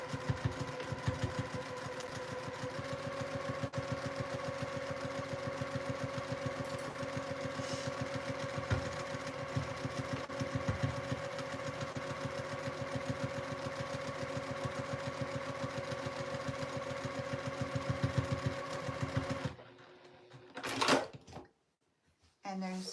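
A sewing machine runs steadily for about twenty seconds, stitching down the right-hand edge of a fabric sleeve with a back stitch at a small leather strap, its motor hum and needle rattle continuous, then stopping into near silence.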